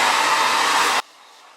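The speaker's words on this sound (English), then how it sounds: "gotta use my blow dryer real quick." A blow dryer runs loud and steady with a strong broadband whoosh while drying a lace wig, then cuts off abruptly, leaving a faint hiss.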